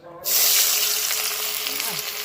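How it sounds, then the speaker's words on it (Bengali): Chopped onions hit hot mustard oil with a sudden loud sizzle that settles into a steady, bright crackling fry, close and continuous, with no voices. "তেলটা পুরোপুরি গরম হয়ে গেছে প্রথমে দিয়ে দিচ্ছি পেঁয়াজ"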